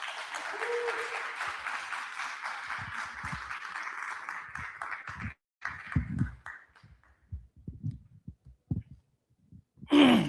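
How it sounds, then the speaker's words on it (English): Applause from an audience at a launch event, with steady clapping for about five seconds that then breaks into scattered, fading claps before a brief loud burst at the end. "give him a roar of a round of applause"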